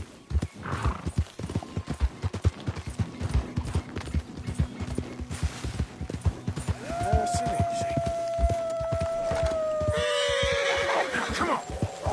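A horse in a PS4 video game gallops with steady, rapid clip-clopping hoofbeats, then lets out a long, loud whinny near the end. A voice can be heard faintly over the hooves.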